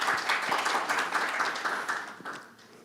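An audience at a forum panel applauds steadily for a few seconds, the clapping dense at first and thinning out as it fades.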